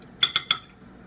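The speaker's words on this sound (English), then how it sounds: "And then we start the stirring process" A spoon stirs a peppered milk mixture in a cooking pot, striking the metal three times in quick succession for bright clinks, then silence.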